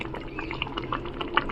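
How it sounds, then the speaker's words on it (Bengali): Ghee is drizzled over hot palak paneer cooking on a gas stove, giving a soft crackling sizzle with scattered bubbling pops and small spatters, close and fairly quiet, with no talk. "এবারে ওপর থেকে ঘি ছড়িয়ে দিলাম একটু।"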